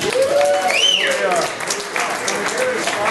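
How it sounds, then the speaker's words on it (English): A crowd at a fundraiser for a web series applauds, with a couple of whistles rising above the clapping and voices talking throughout. "But how about an applause for all these guys?"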